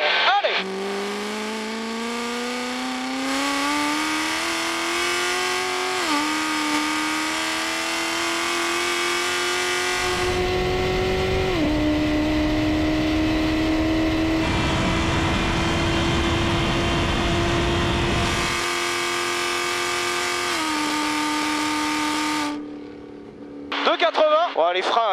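A Kawasaki 1000 motorcycle held near top speed on the Hunaudières straight at Le Mans, a loud, sustained engine whine with a few brief dips at gear changes before it winds off near the end.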